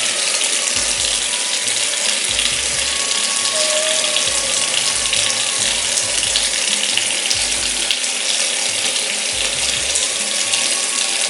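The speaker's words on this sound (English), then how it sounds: "You want to keep rinsing your hair until the water runs clear." Tap water runs steadily and loudly while hair is rinsed clear during a jet black dye job on natural hair, a continuous broadband rush with faint clicking underneath and no talking.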